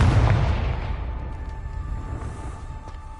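A Confringo blasting spell explodes in Hogwarts Legacy, a heavy booming burst at the start that rolls into a long, slowly fading rumble with faint crackles trailing behind.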